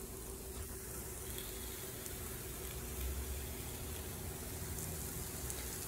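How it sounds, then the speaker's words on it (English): Butter sizzling as it hits a hot pan during home cooking of a garlic-butter dish, a steady broadband hiss and crackle that stays fairly quiet throughout with no talking. "Now I'm going to add butter."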